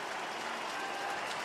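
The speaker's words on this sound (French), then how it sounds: "Il est très applaudi." Stadium crowd applauding a rugby substitution in a Scotland versus Italy match, a steady broad wash of clapping throughout, fairly distant and even, with no voices over it.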